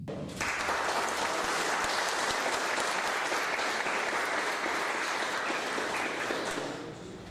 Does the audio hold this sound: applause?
yes